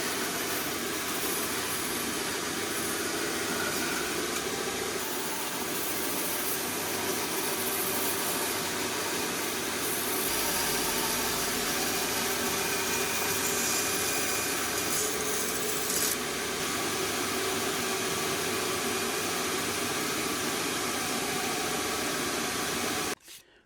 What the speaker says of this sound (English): cutting on the bandsaw